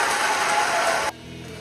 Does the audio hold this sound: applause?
yes